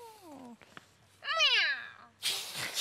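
Cats meowing in a children's TV scene, a descending mew, a few clicks, then a louder rising-falling meow and a bright noisy burst at the end, close and clear.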